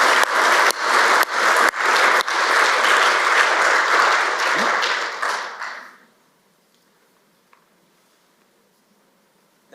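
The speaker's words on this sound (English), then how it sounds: "a round of applause" An audience at a book launch symposium gives a round of applause, dense clapping that fades out around six seconds and leaves near silence.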